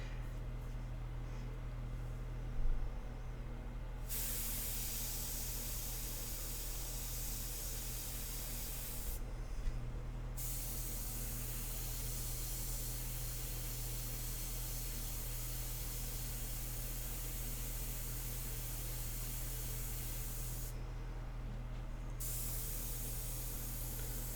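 An airbrush sprays paint onto a vintage portrait in steady, close hissing bursts that run almost continuously, with brief pauses as the trigger is released.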